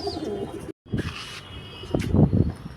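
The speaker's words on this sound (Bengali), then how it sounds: "এই যে দুটো পায়রাকে আমি হাতে ধরে রেখেছি" Black pigeons coo softly, a few low murmuring calls spread through the moment with a short break of silence, heard fairly close and without any talking.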